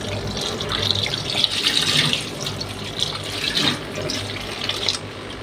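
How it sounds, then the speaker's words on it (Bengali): Tap water runs into a sink while meat is rinsed, a steady hissing splash with bursts and surges as hands move the pieces under the stream, close and fairly loud with no voices. "আমি এখন মাংসগুলোকে ওয়াশ করে নিচ্ছি, ভালোভাবে ওয়াশ করে নেব।"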